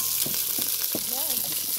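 Onions dropped into hot oil in a pan give a loud, steady sizzle with a few bursts of crackle and spitting, close up and with no talking.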